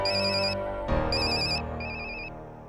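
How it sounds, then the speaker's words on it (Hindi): A mobile phone rings indoors, its electronic ringtone playing in short melodic bursts with brief gaps, clear and fairly loud, with no one talking over it. "किसका फोन बज रहा है?"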